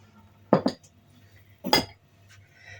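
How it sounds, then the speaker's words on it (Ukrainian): A metal tablespoon scoops salt and taps against a bowl in two quick clinks, then a second scoop a moment later, close and quiet otherwise. "Далі додаю сюди сіль 2 столові ложки."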